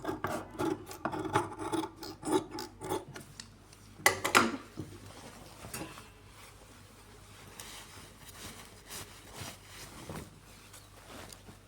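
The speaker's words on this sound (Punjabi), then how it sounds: "ਪਹਿਲਾਂ ਐਕਸਟਰਾ ਕੱਪੜਾ ਇਹਨਾਂ ਨੂੰ ਕੱਟ ਲਾਂਗੇ ਆਪਾਂ" Scissors cut excess fabric off a trouser hem, giving a quick run of crisp rasping snips up close, one louder cut, then quieter scattered snipping and handling of the cloth.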